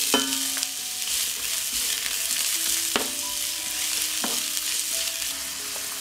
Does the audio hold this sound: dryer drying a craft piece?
no